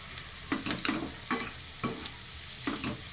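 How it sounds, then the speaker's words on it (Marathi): Boiled potatoes mashed and stirred into a spiced mixture in a pan for potato chutney, heard as a series of soft, uneven scraping and squashing strokes, close up, with no talking. "ते बटाटे आपण यात कुस्करून टाकायचे."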